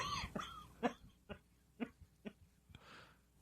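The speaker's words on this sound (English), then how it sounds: "Oh, cough." A person coughs and hacks in a string of short, dry bursts that are fairly faint and spaced unevenly, ending with a rough breathy exhale.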